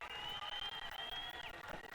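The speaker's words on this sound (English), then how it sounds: "And the Colgate fans all up and applauding." Faint crowd applause from Colgate fans at a men's college soccer match against Loyola, a distant steady patter of clapping with a thin whistle-like tone running over it.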